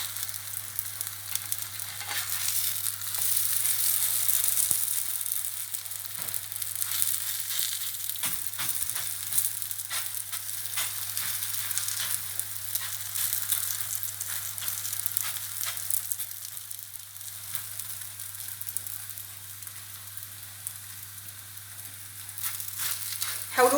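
Msemen flatbread frying in a large pan, a steady bright sizzle of hot oil throughout with occasional soft taps and shifting, close and even, with a low hum underneath.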